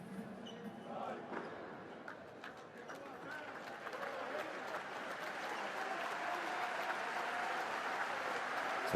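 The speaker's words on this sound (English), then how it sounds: "They hear the applause." Crowd applause in an arena at a New Zealand versus Philippines basketball game, a moderate wash of clapping that builds gradually, heard beneath a commentator's talk with scattered squeaks and thuds from the court.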